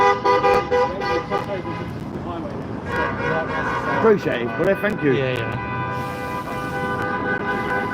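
Cars honk repeatedly in busy traffic around a crowd of England football fans, several horns tooting and overlapping, loud and near, with people chatting and calling out over them.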